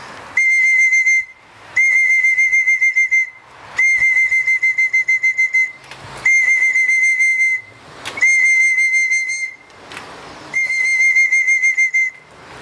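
A steady whistle calling pigeons, repeated in six long, even blasts with short gaps between them, loud and close, with no talking.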